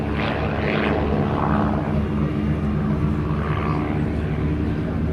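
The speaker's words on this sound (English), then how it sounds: "Very unusual to see a display like this being performed by two extremely dissimilar aircraft, but they're both very aerobatically capable." Propeller aerobatic aircraft, an Xtreme Decathlon and a dissimilar partner plane, drone steadily through a display, a continuous loud engine rumble that swells slightly as they pass.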